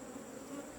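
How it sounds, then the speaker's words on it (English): Honeybees buzz around a hive box being pried open, where comb has been built underneath, a faint, continuous drone over the brief moment. "we're ticking the bees off"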